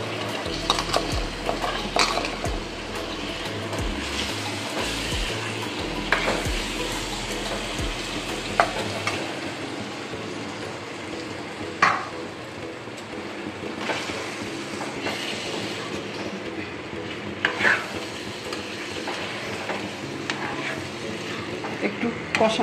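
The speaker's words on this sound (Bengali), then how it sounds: "একটু কষানো হতে থাক" Chickpea and paneer masala frying in a pan with kasuri methi and garam masala, a steady low sizzle with occasional clinks of a spoon stirring against the pan, continuous throughout.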